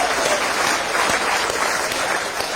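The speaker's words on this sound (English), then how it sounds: "Give yourselves a round of applause for being here," An audience claps in a full, steady round of applause, loud and close, filling the room throughout with no voices standing out.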